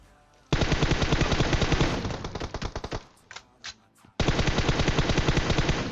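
Automatic gunfire in PUBG Mobile comes in long, rapid bursts of loud, close shots. A sputtering stretch of single shots fills the middle, and then another sustained burst follows. No voices can be heard.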